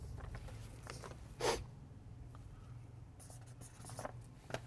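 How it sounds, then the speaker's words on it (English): A pen scratches across paper while a contract is signed, faint and close in a quiet room, with a short burst of strokes followed by sparse light scribbles over a low steady hum. "Sign the paper!"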